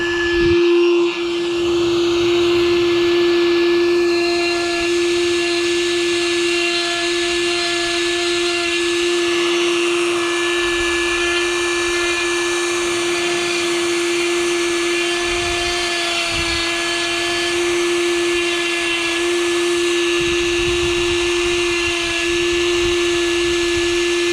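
Steady high-pitched whine of a rotary carving tool bit grinding wood during live chainsaw carving, holding a constant pitch for the whole stretch with no talking.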